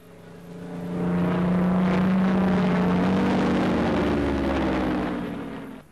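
A small wartime RAF aircraft in Libya taking off from a short runway: a steady propeller engine drone that swells quickly after the first second and holds loud and close, with a faint pitch shift as it moves, then eases at the end.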